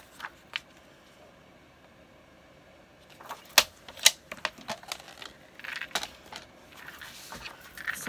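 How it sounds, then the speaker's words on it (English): Paper being cut to 4 1/4 by 5 1/2 on a paper trimmer for a Polaroid peeker craft: near-silence for three seconds, then a close run of sharp clicks, slides and clattering taps. "So let me trim this down to size."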